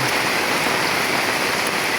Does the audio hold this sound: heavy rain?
yes